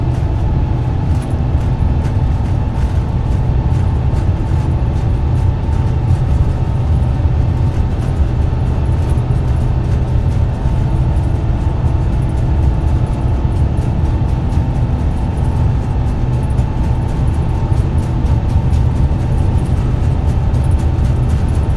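Airliner engines roar steadily during the takeoff roll of a simulated Airbus A350-900 in Microsoft Flight Simulator 2020, a loud, constant low rumble without pause.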